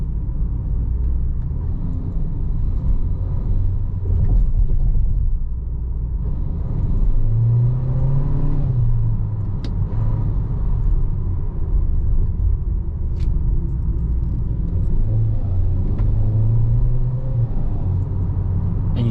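A Geely Coolray's 1.5-litre turbo engine hums under throttle, a steady loud droning rumble from inside the cabin with pitch rising and easing in slow waves as it revs, no voices.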